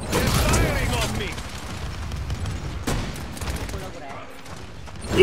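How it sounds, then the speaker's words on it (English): Gunfire in the Paladins shooter game rattles in bursts, loudest at the start and then easing into a continuous mix of shots and effects under the game's background noise. "They're firing on me."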